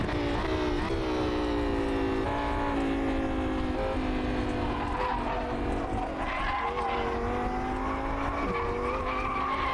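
Race car in rFactor 2 braking hard at the end of a long straight, a loud continuous engine drone with shifting harmonics as revs drop through downshifts, tires squealing throughout with no speech.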